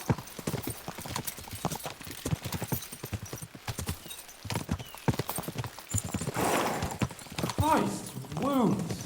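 Horse hooves clip-clop in rapid, regular rhythm in Kingdom Come Deliverance 2, loud and close, with a horse whinnying near the end while voices talk over the galloping.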